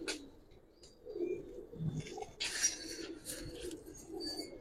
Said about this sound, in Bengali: আর সম্পূর্ণ কালো চারি, কালো ঠোঁট আর কাজলা চোখের কবুতরটা